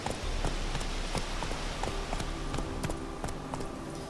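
Hooves of Roach, a horse in The Witcher 3, beat out a steady galloping rhythm, clear regular clops repeating over several seconds against a constant background hiss.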